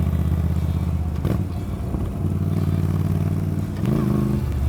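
A Moto Guzzi V9 Roamer motorcycle rides in fourth gear at around thirty miles an hour, its V-twin engine producing a steady, throaty low drone that dips briefly and then rises again, with wind rush over it.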